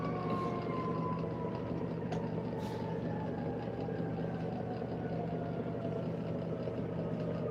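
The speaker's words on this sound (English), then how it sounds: "I heard the siren go" A fire department siren wails far off, its tone sliding slowly downward over a steady low engine-like rumble, continuous and fairly faint with no talking.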